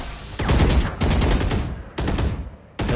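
Bursts of rapid gunfire from the Dota 2 video game, three or four loud fusillades of crackling shots separated by brief gaps, close and prominent with no talk.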